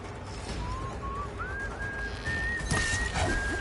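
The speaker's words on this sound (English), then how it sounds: "your whistling's a little creepy, bro." A person whistles a slow, rising and wavering tune during a game session, the thin whistle continuing steadily over a dense, noisy background.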